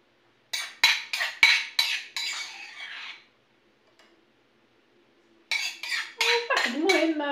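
Glass dessert cups for a strawberry cream dessert set down one after another on a hard surface, a run of distinct clinks, a pause, then more clinks and rattles with a voice briefly at the end.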